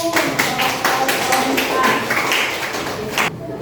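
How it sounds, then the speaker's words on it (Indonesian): Steady applause from a group, dense clapping that continues for a few seconds and then stops abruptly. "Tepuk tangan dulu"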